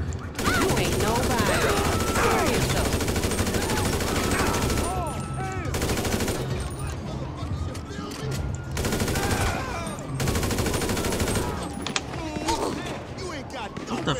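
GTA 5 gunfire comes as dense bursts of rapid shots and automatic fire spread over about fourteen seconds, loud and close, broken by short gaps, with voices talking throughout.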